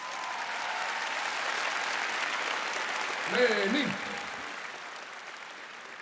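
Audience applause for the band at a live show in Botniahallen, a broad steady wash of clapping from a large hall crowd, with a brief spoken word cutting through near the middle.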